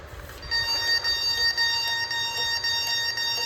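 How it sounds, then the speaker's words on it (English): A Honeywell 5800G alarm system's fire alarm bell pulses steadily and loudly in a march-time rhythm, its bright ringing tones repeating alone without voices. "We can hear the bell relay pulsing march time of some sort"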